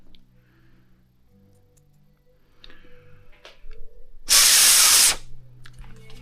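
Aerosol carb cleaner can spraying during a 1JZ-GTE VVT-i solenoid and filter cleaning job, a single loud hissing burst of under a second standing out over quiet background.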